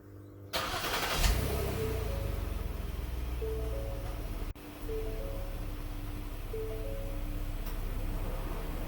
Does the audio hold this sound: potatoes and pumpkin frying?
no